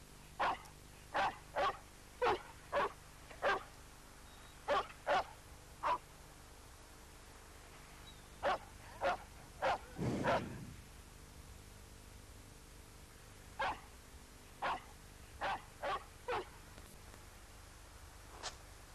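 Village dogs bark in short repeated bursts, agitated by European bison wandering in from the forest; clear, fairly close barks arrive in irregular clusters with pauses, and one louder, deeper burst sounds midway, over a steady faint background hiss.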